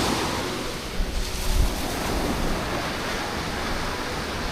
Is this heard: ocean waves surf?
yes